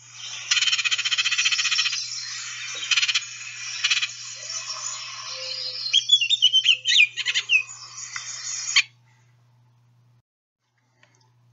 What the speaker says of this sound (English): two Baltimore Orioles interacting, and it's kind of an aggressive interaction.